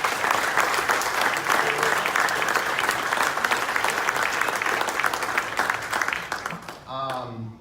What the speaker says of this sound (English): So a round of applause for how our guys handled Friday night.